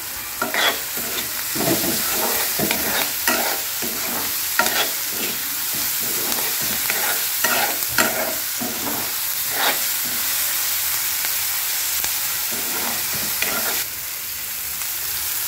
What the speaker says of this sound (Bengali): ব্যাস, এবার আমি ভালো করে এটাকে একটু ভেজে নেব।